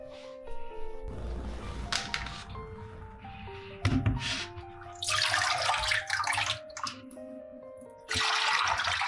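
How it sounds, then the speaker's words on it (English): Bok choy leaves scrubbed by hand under a running kitchen tap, water gushing and splashing in several bursts with brief pauses and drips between, close and without speech. "gently scrubbing at the leaves while running them under water"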